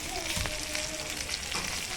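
Chicken frying in a pan for chicken kaul fry at an Aakhad party, with a continuous close, moderately loud sizzle and a few light stirring clicks.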